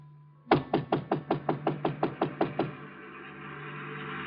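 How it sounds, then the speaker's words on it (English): Eleven firm knocks on a door in a quick, even rhythm, close and distinct, followed by a lingering low hum. "And I knocked on the door."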